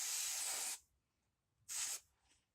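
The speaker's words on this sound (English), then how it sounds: "You want to spray the roots." Two close hissing blasts of L'Oréal Extraordinary Clay dry shampoo sprayed onto hair roots, a long spray followed by a brief pause and a shorter second burst, with nothing else around them.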